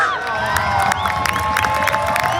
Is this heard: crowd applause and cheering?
yes